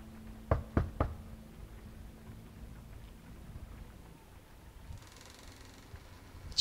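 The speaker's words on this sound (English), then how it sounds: "Knock." Three sharp knocks on a door in The Wolf Among Us video game, quick and close together near the start, followed by quiet ambience with a faint hiss.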